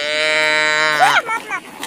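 An animal toy plays a cow's moo: one loud, drawn-out tone that wavers at the end, followed by brief fainter sounds.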